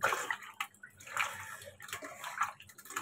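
Pabda fish being rinsed with water and salt, close splashing and sloshing in bursts with drips and soft handling sounds between, fairly quiet.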